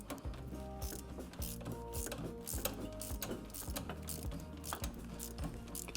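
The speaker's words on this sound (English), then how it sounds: "I love this little Facom ratchet." A compact Facom ratchet clicks in quick, repeated bursts while a bolt is tightened on a classic Mini Clubman 1275 GT engine, the close metallic pawl ticks running steadily without talk.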